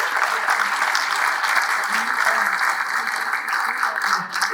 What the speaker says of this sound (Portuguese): Então, eu quero aqui aplaudir cada mulher trabalhadora,